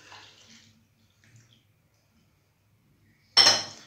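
Warm water poured into a mixing bowl while making simple skillet pancakes: a faint trickle at the start, a long quiet stretch, then a sudden loud splash with clinking at the end.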